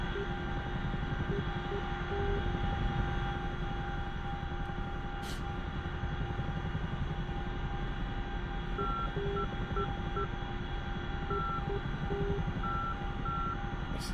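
Steady droning helicopter cabin noise in the DCS World flight simulator, a dense constant engine and rotor hum with faint intermittent beeping tones running over it, no talking.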